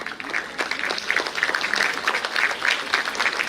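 Parents clap steadily in a hall at an achievers' felicitation ceremony, a dense, even round of applause from a seated crowd, moderately near, with faint cheering mixed in.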